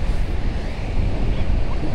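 Steady wind rushes and buffets the microphone at Umm Al Quwain Beach, with a low rumble of surf beneath it and no voices.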